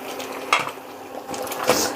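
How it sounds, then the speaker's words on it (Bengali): A metal lid lifted off a cooking pot of Kashmiri dum aloo, with two short clanks of metal against the pot rim, one early and one near the end, over a soft bubbling background. "এবার আমি ঢাকনাটা তুলে নিচ্ছি,"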